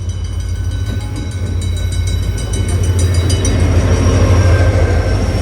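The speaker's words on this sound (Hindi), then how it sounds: "तो भाई ट्रेन पहुंच गई है, पाकिस्तानी ट्रेन।" A Pakistani train pulling into a station platform, its steady heavy rumble building and growing louder with faint metallic squeals and rattles over a constant low drone.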